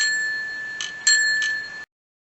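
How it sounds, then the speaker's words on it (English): A ringing bell meant for a doorbell system sounds steady tones of about two seconds, with a few brighter strikes rising through it, loud and close before stopping abruptly into silence. "And what I came up with was a bell."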